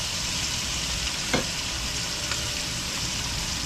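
Garlic, onion and tomato sauté in a hot pan, a steady close hiss of sizzling oil with a faint clink or stir now and then, alone without talk.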